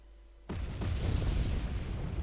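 Artillery fire and explosions from the real-time strategy game Wargame Red Dragon, a sudden loud burst of rumbling booms that continues as dense, close battle noise for about two seconds.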